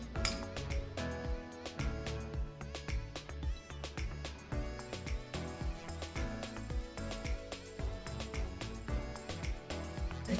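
Broccoli salad with orange slices and almond slices, mixed in a bowl: continuous close clinks and scrapes of utensils against the bowl in an irregular rhythm, fairly quiet.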